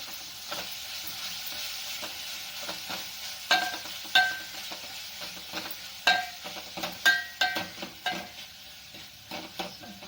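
Greens, including spinach, sizzle and hiss in a hot pan as a spoon scrapes and stirs, making sharp intermittent clanks over the steady frying.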